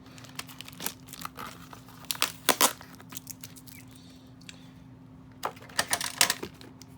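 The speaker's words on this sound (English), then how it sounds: "we're going to take the tape off, or try to" Tape is pulled and peeled off a cardboard Spin Master Mermaid High Mari toy box, sounding as bursts of crackly, crinkly tearing near the mic, with quieter gaps between the pulls.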